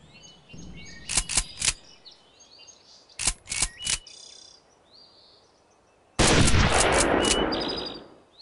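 Rifle shots in the hunting video game Hunting Unlimited 2011: two quick bursts of sharp cracks, three or four each, followed by a louder, longer blast that rings out and fades, with faint bird calls in the background.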